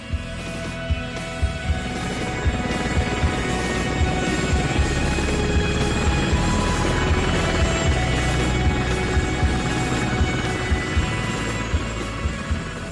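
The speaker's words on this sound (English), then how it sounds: "And Harry's gone again, off on another Apache mission." An Apache attack helicopter on a combat mission in Afghanistan, its rotor and engine drone steady and loud throughout with a faint rhythmic blade chop, no voices.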